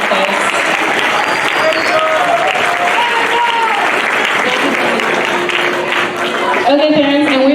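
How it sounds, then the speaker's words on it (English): Parents in a school auditorium applaud student musicians at a middle school spring band concert, a loud, continuous round of clapping with faint voices and calls rising through it. "Can we give them another round of applause, please?"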